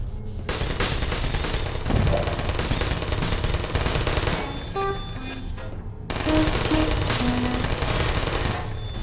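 Portal turret in the video game Portal unleashing loud, continuous rapid-fire bursts of gunfire, dense and close, with a brief break near the start and another partway through, plus faint electronic tones scattered over the barrage.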